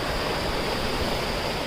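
Floodwater from heavy rain rushes down a canal in Kanyakumari, making a dense, steady roar that stays loud and unbroken throughout.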